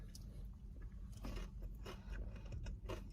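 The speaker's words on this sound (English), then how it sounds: "Now let's try the crunchy tempura with the sweet soy." Crunchy tempura with sweet soy is bitten and chewed close to the mic, giving quiet, irregular crunches and crackles over a low background rumble.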